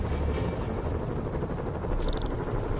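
Helicopters in the video game Marvel's Spider-Man make a steady, dense rotor rumble that fills the whole stretch at constant loudness, with a faint higher whine near the end.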